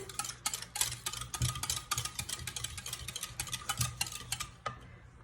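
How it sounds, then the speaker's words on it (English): A soy sauce and milk mixture whisked in a bowl, a rapid run of light, even ticking clicks as the whisk strikes the sides, close and soft, fading out at the end. "Now we just want to whisk this up until smooth."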